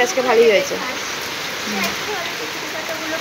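Rain falls in a steady, even hiss that fills the whole stretch, with a voice speaking briefly over it at the start.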